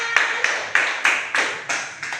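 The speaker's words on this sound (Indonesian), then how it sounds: "Ya, beri tepuk tangan." Classroom students clap in unison in a slow rhythmic pattern, about eight sharp group claps spaced evenly apart, moderately close and clear.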